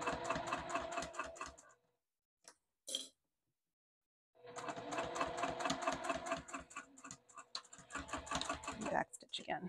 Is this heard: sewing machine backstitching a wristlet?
yes